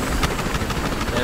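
A helicopter in the video game Battlefield Hardline produces a continuous droning rotor and engine hum with slight pulsing, heard steadily through the short stretch of game audio.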